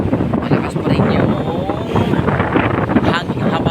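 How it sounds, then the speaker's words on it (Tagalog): Strong southwest monsoon wind on Boracay island roars steadily and loud against the microphone, a broad gusting rush that barely lets up from start to end. "hangin habagat mga kalabers."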